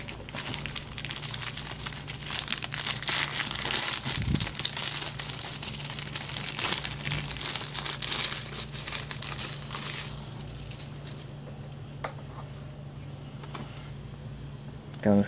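Plastic packaging of a 1/6 scale Kadhobby special forces action figure in desert ACU being opened, with steady close crinkling and crumpling throughout, a brief thump partway, and faint talk underneath.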